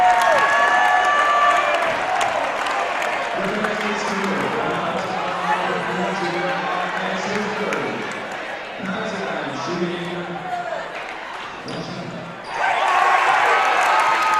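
A partisan home crowd at a Wheaton men's college basketball game against Olivet roars and cheers, with a loud swell near the end. Ball bounces and an announcer's voice run underneath.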